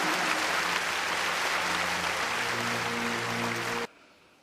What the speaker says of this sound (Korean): 우리 다시 한번 뜨거운 감사의 박수를 드리겠습니다.